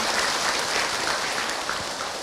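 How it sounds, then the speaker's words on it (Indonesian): Audience at an Indonesian Islamic lecture clapping in appreciation, a steady wash of applause that holds evenly for a couple of seconds with no voices over it. "Tepuk tangan buat Ahilman ibu ya"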